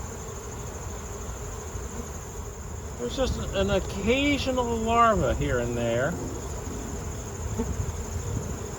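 A dense, steady buzzing of many honeybees hums throughout, close and continuous, while someone speaks briefly over it partway through.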